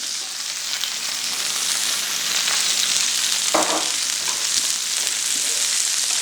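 Steak sizzles loudly and steadily in a hot pan while being basted with cubes of butter, a continuous bright frying hiss with a brief spluttering burst midway.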